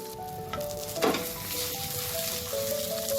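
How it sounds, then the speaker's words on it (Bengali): Egg omelette, folded with a steel spatula, frying in a pan with a steady close sizzle, a brief louder burst of crackling as it settles, and faint tonal kitchen hum underneath; no talking. "এই পাশটাও এরকম লাল করে ভেজে নিয়ে আমি তুলে নেব"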